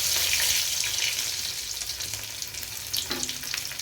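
Crushed unpeeled garlic cloves drop into hot oil with popped mustard seeds, giving a loud, steady close sizzle with light stirring, with no voices.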